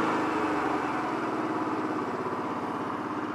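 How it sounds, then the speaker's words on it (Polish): A cold Honda Shadow 125 VT motorcycle engine idles with the choke half closed, a close, steady low throbbing pulse that thins slightly and wavers toward the end, with no speech. "Już silnik będzie elegancko pracował, ale będzie miał tendencję do przygasania."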